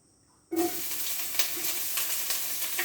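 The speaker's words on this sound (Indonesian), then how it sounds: "menggoreng bawang merah bawang putihnya sekalian ya" Shallots and garlic hit hot oil with a sudden loud sizzle that holds steady and close, crackling continuously without letup and no voices over it.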